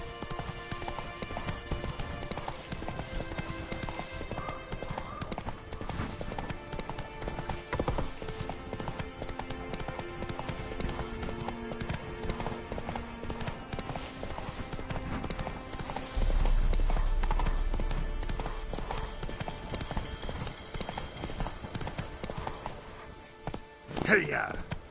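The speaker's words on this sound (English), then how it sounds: "Run, Roach." Hoofbeats of a horse galloping in The Witcher 3 video game, a steady rapid clip-clop running throughout under game music and ambience, with a louder low rumble partway through and a snort near the end.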